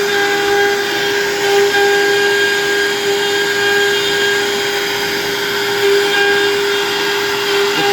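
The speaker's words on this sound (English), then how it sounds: "Dust collection's already on, and let's see how she does." A dust collector runs at a steady, loud drone with a strong hum while a quarter-inch bit drills holes in a shop, continuous and unbroken, with no talk.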